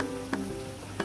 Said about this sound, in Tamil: பட்டை இதெல்லாம் சேர்த்து நல்லா dry roast பண்ணிரலாம்